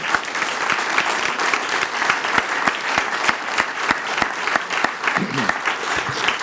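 An audience at a press conference at a cultural and sports centre claps in sustained applause, dense and steady with sharper individual claps standing out, filling the room throughout.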